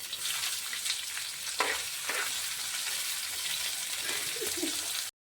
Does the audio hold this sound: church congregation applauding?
no